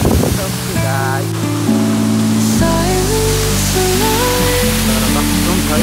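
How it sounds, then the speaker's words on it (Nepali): A waterfall sends up a steady broadband rush of falling water, with music playing prominently over it throughout. "यो झर्ना चाहिँ बबाल छ।"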